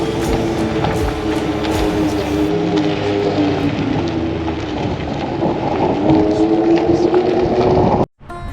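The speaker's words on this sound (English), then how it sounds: "you can hear a side-by-side coming down the road into the canyon at a high rate of speed" A side-by-side UTV speeds down the road into a canyon on the Apache Trail. Its engine drones and roars continuously under heavy wind-like rumble, then cuts off abruptly near the end.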